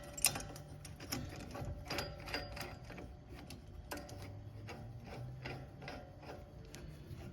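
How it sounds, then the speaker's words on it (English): A mechanical puller pushes a GMC truck axle shaft back out of the wheel hub assembly, giving a quiet series of clicking, ratcheting ticks at an irregular pace, close by and alone. "I get myself a puller like this one."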